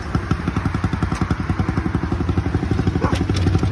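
A small automatic ATV engine with a discharged battery sputters into life and settles into a rapid, even chugging idle with a few clattery knocks, close by.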